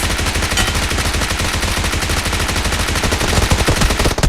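Loud, rapid bursts of automatic gunfire in PUBG Mobile, continuous and close, with no voices.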